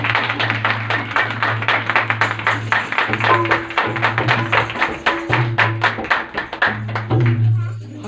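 Congregation at a Christmas Day church prayer service clapping loudly in a quick, irregular rhythm, sharp hand claps close by over a sustained low organ-like tone and some voices.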